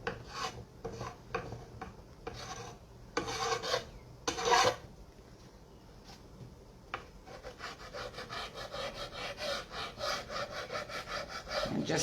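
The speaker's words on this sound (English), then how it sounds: "I'm just going to go across and scrape" A hand scraper rasps across painted metal on a truck, in short rough strokes that turn into a steadier, longer stretch of scraping at close range.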